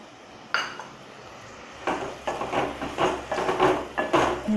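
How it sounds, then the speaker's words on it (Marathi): Prawn biryani being mixed in a cooking pot, with a metal spoon scraping and clinking against the pot in a steady run of strokes, close and moderately loud with no talking. "आणि चांगले मिक्स करून घ्यायचे."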